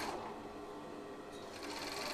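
A coverstitch sewing machine runs steadily while hemming a cotton T-shirt, a fast even whirring stitch rhythm heard up close, with no pauses.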